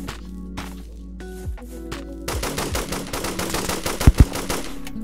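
Rapid SMG gunfire in the Roblox game Trident Survival, dense bursts of fast repeated shots that grow louder and busier midway, with a couple of sharp heavier impacts near the end.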